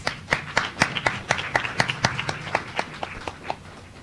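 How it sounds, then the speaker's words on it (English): Clapping breaks out after a spelling contestant finishes on a live stream, a small audience delivering sharp, distinct claps at a brisk, fairly regular pace that gradually thins out over four seconds. "Give a round of applause"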